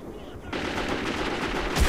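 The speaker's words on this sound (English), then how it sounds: "Is that an automatic shotgun?" Rapid automatic shotgun fire in the video game Metro 2033, a dense loud burst of shots that starts abruptly and continues nearly unbroken, with a voice briefly audible.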